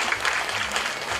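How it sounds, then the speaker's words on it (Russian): Theatre audience applauding steadily at a youth theatre in Primorye, a dense patter of many hands clapping at close range with no pauses. "Ваши аплодисменты."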